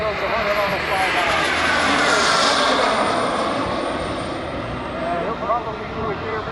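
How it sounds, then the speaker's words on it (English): An F/A-18 Hornet jet makes a flyby at an airshow, a loud sustained engine roar sweeping past and slowly fading, with an announcer talking over it. "And here goes the Hornet on the flyby."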